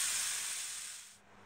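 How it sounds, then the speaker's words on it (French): Vegetable and ground-meat filling for stuffed msemen drains in a colander, giving a steady close hiss of trickling liquid that fades gradually and cuts off near the end. "je vais laisser égoutter ma farce dans une passoire"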